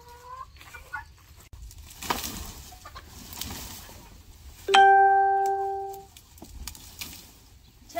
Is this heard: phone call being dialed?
no